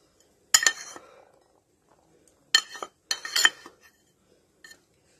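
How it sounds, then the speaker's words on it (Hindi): A whisk or spoon mixing gram flour and cornflour batter for gluten-free strawberry pancakes, heard as close metallic clinks and scrapes against the bowl in three or four short bursts, with quiet gaps between them. "और इनको आप विस्क की मदद से या स्पून से, जैसे आपको इजी लगे, आप इसको मिक्स करें।"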